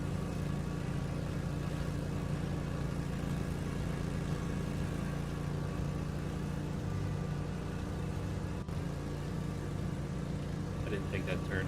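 Lawnmower engine in the video game Lawn Care Simulator, a steady, loud droning roar that runs continuously throughout with faint music beneath it.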